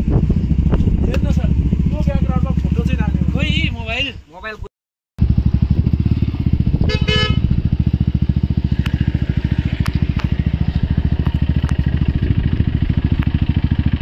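A motorcycle on a muddy, snow-melt mountain road in the Darjeeling hills chugs loudly and steadily, with clattering and a brief drop-out partway through; a rider's voice is heard over the engine.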